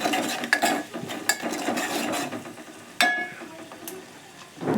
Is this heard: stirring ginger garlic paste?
yes